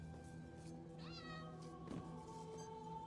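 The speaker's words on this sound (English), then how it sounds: "It was the cat." A cat meows once, a clear, rising and falling call, in The Elder Scrolls Online, set over a steady, quiet hum of game ambience.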